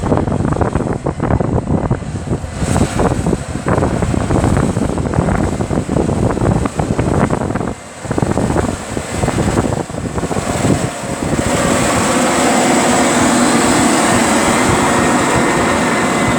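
A new 2020 Case Magnum 380 tractor ploughs maize stubble in a field in Suffolk, its engine a loud, continuous close-up drone with a brief dip partway through, then a steadier roar.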